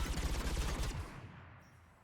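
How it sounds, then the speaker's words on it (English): Anti-aircraft guns in Mass Effect 3 fire in a dense, loud rattling burst at Cerberus ships, then cut off and fade into a decaying rumble. "the guns are already picking Cerberus ships out of the sky"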